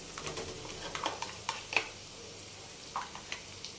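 Tomato paste stirred into a frying egg and dried prawn curry in a pan, giving soft scraping spoon strokes and light clicks over a faint sizzle, quiet and close, without speech.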